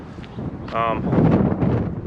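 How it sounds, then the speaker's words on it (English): Gusty 15-25 mph wind buffets a GoPro Hero 8 Media Mod shotgun microphone from behind in a low, rumbling roar, with a brief voice heard faintly through the blustery noise. "right now the wind is blowing at my back, so it should be blowing directly in the shotgun mic"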